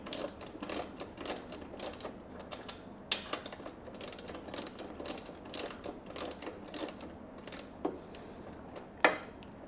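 Rapid ratchet clicking while a bolt on a Harley-Davidson Street Glide CVO shock mount is tightened during an Ohlins shock install, close and in short repeated bursts with brief pauses.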